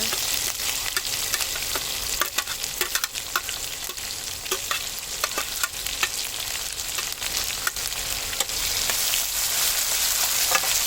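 Onions fry in oil in a pan for a potato-free poori masala, giving a steady close sizzle broken by frequent scraping stirs, with no talking.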